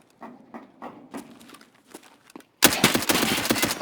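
Pistol fire in a video game: a string of irregular soft thuds and steps gives way to a loud, dense burst of rapid shots that continues to the end.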